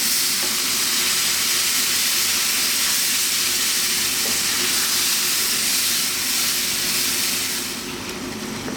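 Garlic chicken and tomatoes simmer in a pot over medium heat for an Italian-style stew, giving a loud, continuous sizzling hiss that holds steady and eases slightly toward the end, with no voices.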